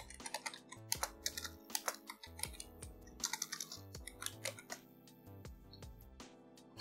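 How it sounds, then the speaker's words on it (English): Text is typed on a computer keyboard, with a long irregular string of light, quick key clicks at a faint level. "just single click and type your text."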